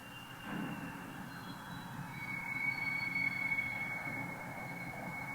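A distant train rumbles along the tracks in Cincinnati, Ohio, with a faint, sustained high-pitched squeal of wheels, slowly growing louder.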